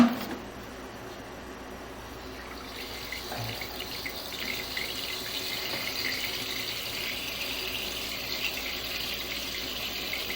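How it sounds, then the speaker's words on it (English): Tap water runs into a sewer drain line under inspection for a possible belly in the pipe, a faint hollow trickle at first that swells after a few seconds into a steady, louder rushing flow, with no talk. "I'm about to run some water right now."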